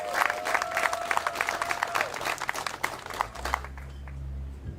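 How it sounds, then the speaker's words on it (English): A crowd at a groundbreaking ceremony for Shaw Stadium claps in steady applause that tapers off after a few seconds, leaving a low hum and faint murmur. "Let's give it a round of applause."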